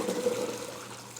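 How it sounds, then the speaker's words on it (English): Boiled chickpeas drained through a strainer, the cooking water kept, give a steady watery pour and trickle, close and moderately loud, tailing off slightly with no talk. "I'm gonna drain the chickpeas and we're gonna keep the water"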